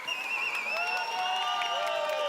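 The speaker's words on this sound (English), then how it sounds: "Some cheering from the audience there" An audience at a FIRST Tech Challenge robotics competition cheers with sustained whoops and shouts that blend into a steady crowd roar, with scattered clapping underneath.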